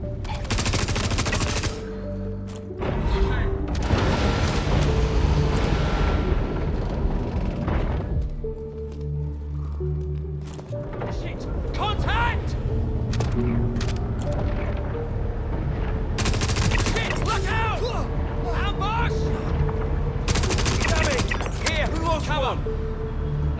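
Gunfire crackles through a video game firefight, with repeated bursts of automatic fire and sharp single shots coming in clusters, some loud and close, others farther off, with shouted voices in between.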